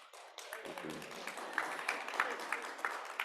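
Audience at a Raleigh Kiwanis luncheon breaks into applause, a steady wash of clapping that rises suddenly and continues with sharp individual claps.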